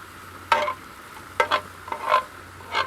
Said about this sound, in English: Got mushrooms in there, a couple of peppers, all frying off in some nice butter